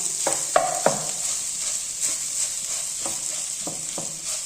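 Minced meat (keema) frying dry in a pan with salt and chili, a steady close sizzle under several sharp scrapes and stirs of a utensil against the pan, with no speech.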